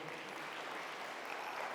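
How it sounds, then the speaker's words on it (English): Closing-remarks audience at a Cape Town conference applauding, a steady wash of distant, faint clapping with no break. "A round of applause, please, for Hennie."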